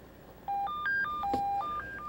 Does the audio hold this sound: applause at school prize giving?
no